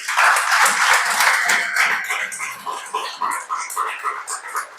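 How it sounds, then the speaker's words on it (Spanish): A church congregation applauds during a sermon, dense clapping close by, with voices mixed in that thin out toward the end. "Dale un aplauso a Él."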